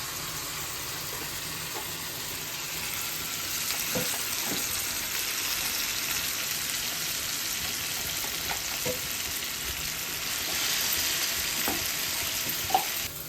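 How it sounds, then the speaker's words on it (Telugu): Gongura paste and ginger garlic paste fry in oil for a king fish curry, a steady loud sizzle throughout with occasional soft taps and scrapes of a stirring spoon and no speech. "అల్లం వెల్లుల్లి పేస్ట్, గోంగూర పేస్ట్ మొత్తం ఇది ఎలా కలుస్తుంది. అది బాగా వేయించుకోవాలి."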